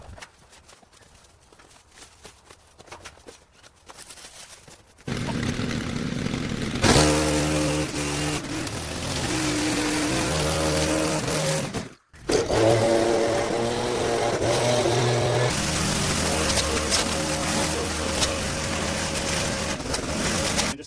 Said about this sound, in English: I just want to get as much of the lawn mowed as possible